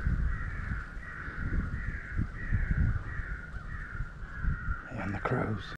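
Several crows caw repeatedly at middle distance during a crow hunt, with harsh calls recurring in a steady series while a person talks over them.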